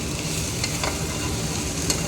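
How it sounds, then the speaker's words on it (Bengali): Okra, potato and onion stir-fry in a pan, sending up a continuous close sizzle with soft scraping stirs scattered across it. "ভেন্ডি আলু পেঁয়াজ দিয়ে ভাজা"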